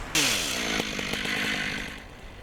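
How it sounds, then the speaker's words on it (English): A chainsaw roars loudly up close in the woods, its engine revving hard as it bites through wood while sculpting, then easing slightly toward the end. "Using a chainsaw is a very quick thing."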